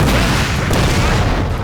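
Canister volleys crash out in a Napoleon: Total War battle, a loud, dense barrage of booming gunfire that rolls on without pause, close and continuous, with no one speaking over it.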